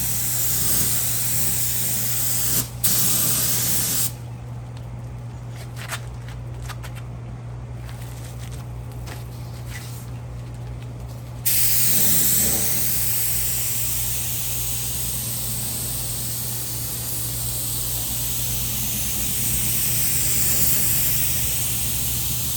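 Spray painting GT stripes onto a 1966 Comet outdoors on a warm day: a continuous airy hiss of spray in long passes, close and steady, with gaps and swells in texture over about twenty seconds.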